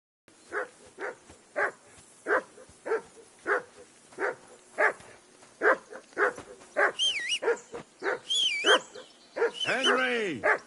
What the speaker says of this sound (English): That barking was a pain in the